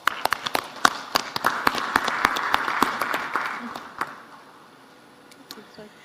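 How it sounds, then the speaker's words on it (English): Audience applause for a conference panel at an African heads-of-state energy summit, a burst of many hands clapping that swells for about four seconds, then fades to scattered claps. "Please join me in giving them a very hearty round of applause."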